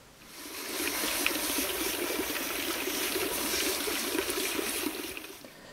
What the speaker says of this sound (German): Deshalb kann man die überschüssige Erde von der Rückseite her einfach mit Wasser und Bürste abwaschen.